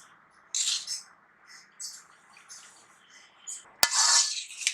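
Gram flour roasted in ghee in a pan for besan laddu: a spoon scrapes and stirs in short, soft, irregular strokes, close by, ending in a sharp tap against the pan.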